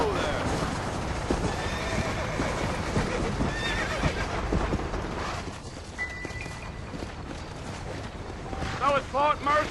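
Horse in the Red Dead Redemption video game whinnying and clip-clopping along with wind noise outdoors, while someone speaks and calls to the animal.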